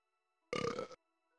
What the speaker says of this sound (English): There's like an automatic burp button.